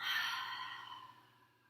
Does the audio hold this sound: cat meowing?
no